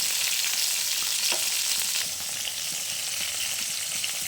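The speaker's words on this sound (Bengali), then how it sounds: "এখন ফুলকপিটা ভেজে নিচ্ছি" Cauliflower pieces frying in a pan give a loud, continuous hiss and crackle of hot oil that runs unbroken and close, with faint stirring and no voices.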